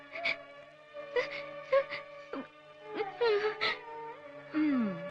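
A person wails and sobs loudly in drawn-out, rising and falling cries, broken into several bursts with short gaps, close and alone.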